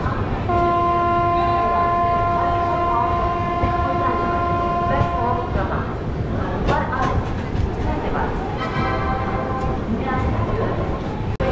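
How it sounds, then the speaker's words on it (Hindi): The Avadh Assam Express pulls away from a station, a loud close train horn holding for about five seconds before the rolling clatter of carriages and a few short horn bursts carry on as a person talks nearby. "सामने से अवध असम एक्सप्रेस का भी डिपार्चर हो चुका है।"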